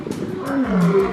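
A lion roars once in a deep, loud, close rumbling call lasting about a second, with no talk over it.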